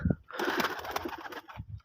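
Soft, low pigeon coos come at the start and end, with a rush of fluttering noise in between as pigeons come to drink water; quiet and close.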